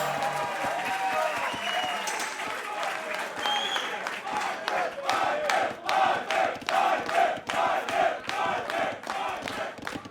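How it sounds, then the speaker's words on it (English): A live crowd at an Age of Empires tournament roars and cheers, breaking into rhythmic clapping that grows louder toward the end while a commentator talks excitedly over it. "The crowd is loving it."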